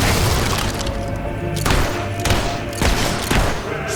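Heavy battle gunfire in the video game Fable 3: loud, dense volleys of shots and booming blasts roll on without pause, with sharp bursts cracking through every second or so.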